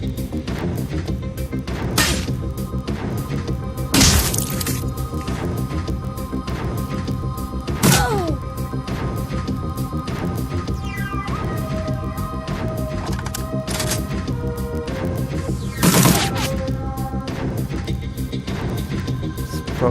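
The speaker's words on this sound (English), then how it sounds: "Real way to use shotguns." Shotgun blasts in the video game Shadowrun: Dragonfall, several sharp booming shots spaced a few seconds apart over a steady dense backdrop of game music and ambience.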